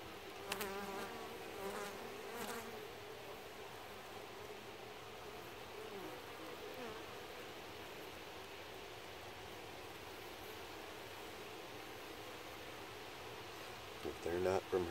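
Honey bees at a hive entrance, with a guard bee checking arrivals: a faint, continuous buzzing hum with passing individual whines, steady and low, ending in a brief louder burst of noise.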